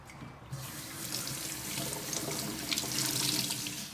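Tap water runs steadily into a sink while fabric dyed with Rit dye is rinsed, a continuous close splashing rush with no voices.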